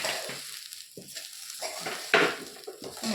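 Curry leaves fry in a pan for mutton curry gravy, bursts of loud crackling sizzle with one sharp flare near the middle, under light utensil clinks.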